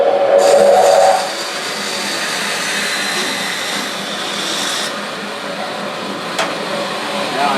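A bandsaw runs while cutting wood in a woodturning shop, giving a steady whirring motor drone with a louder burst at the start and a faint click later.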